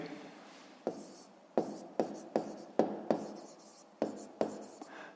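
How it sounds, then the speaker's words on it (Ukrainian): A pen writing on paper during a fifth-grade math exercise, a series of short scratching strokes in quick bursts, close and quiet with no talk. "Записуємо."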